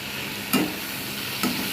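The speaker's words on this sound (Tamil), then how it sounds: "இதையும் சேர்த்து அதோட நல்லா வதக்கி விட்டுருங்க" Mint leaves sautéing in a pan for Tamil puthina chutney, a steady close hiss of frying broken by two brief scraping stirs, no talking.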